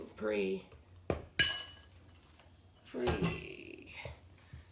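Eggs cracked into a bowl of bran muffin batter, giving a few sharp clinks of glass and utensils with quiet gaps between, a brief voice starting near the end.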